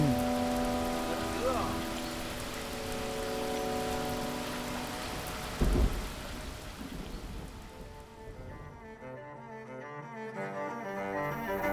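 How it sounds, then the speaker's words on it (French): Rain falls at a campsite during a cycling tour of France while tents are being pitched, a steady soft patter under background hum and tonal noise, fading toward the end. "Le montage des tentes sous la pluie,"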